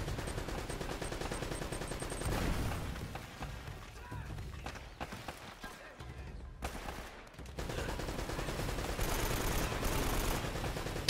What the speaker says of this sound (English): It is a mounted machine gun.